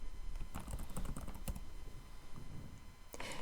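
A computer keyboard being typed on nearby, with quick clustered keystrokes for the first half, a brief slower stretch, then a final louder key press.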